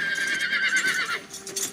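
Horses of an imperial army neighing, with a loud, close whinny followed by hoof clip-clop and fainter snorting, all within a brief moment and without speech.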